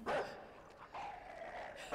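A dog in the video game Inside lets out two or three loud barks at the start and end of a short stretch, with quieter game ambience between them and no voices.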